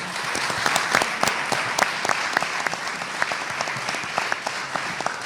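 An audience at a tribute gathering applauds, scattered distinct claps forming a moderate, uneven patter that holds steady for several seconds without speech.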